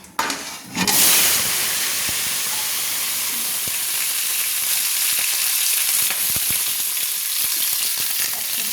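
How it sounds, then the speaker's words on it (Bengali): Cut, washed potatoes dropped into hot oil for a chicken curry, bursting into a loud, close sizzle that holds as a dense, continuous frying hiss with scattered pops and occasional stirring knocks, no talking. "তো এবার আমি কেটে যে ধুয়ে রাখা আলুগুলো আমি ছেড়ে দিচ্ছি।"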